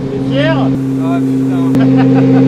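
A heavily modified Fiat Multipla with a 1294 hp engine drones steadily while being driven, with people talking loudly over the engine note.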